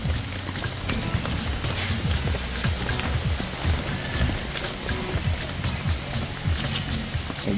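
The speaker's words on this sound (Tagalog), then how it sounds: "kahit na umuulan" Steady rain falls at a lakeside campsite at Garner Lake, Alberta, making a constant, dense patter that fills the clip with no pauses.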